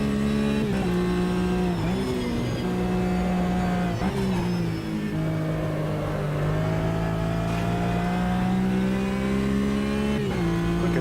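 A GT race car engine in Automobilista 2 drones loud and steady from start to finish, its pitch climbing and dropping through gear changes, with no voices over it.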